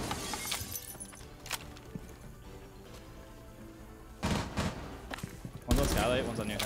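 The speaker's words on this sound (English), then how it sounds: "Make sure you're shooting glass on the windows." Window glass shot out during a round of Rainbow Six Siege on the Kafe map, with bursts of gunfire and shattering crashes standing out over game noise and team chatter.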